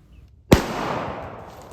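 A single sharp, loud shot from a .45 ACP handgun firing a 230-grain hollow point at a hog outdoors, followed by a brief echoing decay.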